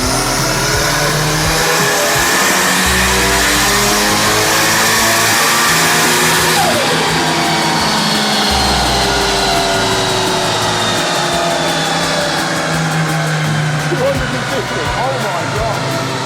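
A Toyota Sera engine runs hard on a dyno at 0.65 bar of boost, a loud, sustained mechanical roar with shifting pitch and pulsing low rumble throughout, held at high revs without letup.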